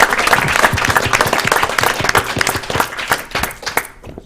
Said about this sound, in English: I think Gemma deserves a round of applause for putting up with all of this nonsense.